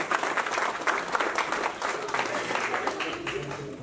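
Applause from guests at a Slovak wedding celebration, a dense, steady round of clapping from a crowd with voices mixed in.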